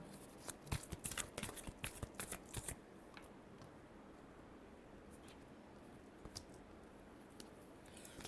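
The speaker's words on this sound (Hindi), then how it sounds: "Last shuffle." A deck of tarot cards is riffled and shuffled close up in a quick run of soft papery flutters and taps over the first few seconds. A quiet pause follows, with a couple of faint card touches.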